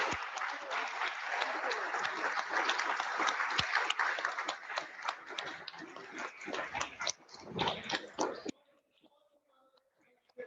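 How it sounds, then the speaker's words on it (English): Applause from an evening COP26 panel event audience: a dense, steady wash of many hands clapping that cuts off abruptly near the end, leaving quiet room tone and faint noises. "could you please all give a big round of applause for our panel and the audience"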